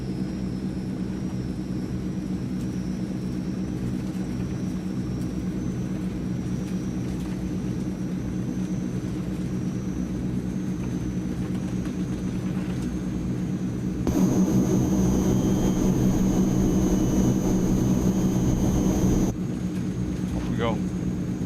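Transall C160 twin turboprop engines spool up in a flight simulator game, a steady droning roar that swells louder toward the end before easing slightly, with no talk over it.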